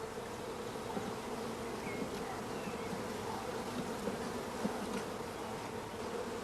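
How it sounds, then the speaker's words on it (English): Honey bees drone in a dense, steady buzz at a hive being worked for queen rearing, a close, continuous swarm hum with individual bees flitting past, and no one speaking. "All bees of each frame are brushed into a funnel over the swarm collecting box."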